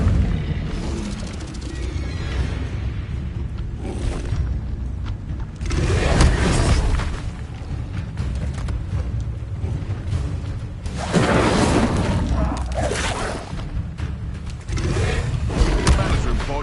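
An Incendio fire spell is cast repeatedly in a wizarding school action game, each cast a loud whooshing burst of flame. Several separate bursts stand out against a rumbling battle background.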